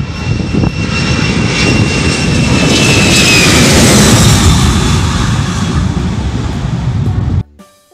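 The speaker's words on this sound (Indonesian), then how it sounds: "Ada pesawat terbang berwarna putih, biru dan merah." A white, blue and red airplane roars with a loud, steady engine drone that fills the whole stretch before cutting off abruptly near the end.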